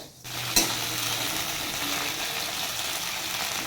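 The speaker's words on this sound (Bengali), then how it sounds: "এখন ফুলকপি ভাজা হচ্ছে" Cauliflower frying in a pan for khichuri makes a continuous medium-loud sizzle and hiss after a brief quiet start, with one sharp clink near the beginning.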